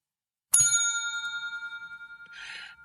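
One bright bell strike rings out with a long shimmering decay, followed by a short rattling jingle near the end.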